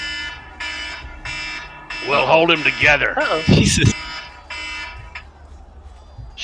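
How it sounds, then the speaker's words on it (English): Repeating electronic alarm tone during a tabletop game session, pulsing in steady bursts throughout, with players talking loudly over it in the middle. "That is the alarm that means that where your characters are is where they stand."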